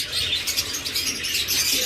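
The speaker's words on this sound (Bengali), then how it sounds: "এরপরে এখানে দেখতেছেন আরেকটা টপ মার্কিংয়ের পাখি" A pair of turquoise forpus parrotlets kept as pets chirp in quick, continuous high twitters, a busy layered chatter that stays close and steady throughout.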